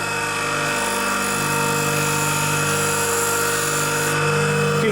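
A chisel end is squared up on a spinning MDF sharpening wheel, a steady loud whirring grind with a constant motor hum that continues throughout, rising slightly near the end.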